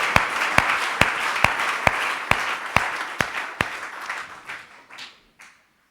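A church congregation applauding: a steady wash of many hands clapping with sharp regular beats on top, tapering off and fading to silence near the end.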